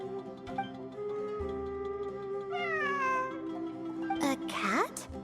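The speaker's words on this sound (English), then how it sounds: "It really is a cat." A cat meows in Genshin Impact amid ruins, a couple of drawn-out rising and falling meows, fairly close, over a sustained tonal music bed and low game ambience.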